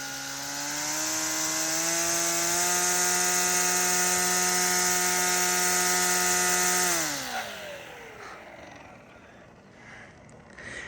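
Ego 16-inch string trimmer running at high speed, a loud steady electric whine with a strong harmonic hum that rises slightly, then spins down abruptly and fades to quiet.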